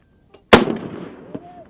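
A single anti-tank round fired on a range, a sharp, loud blast with a long rumbling decay and a fainter thump after it.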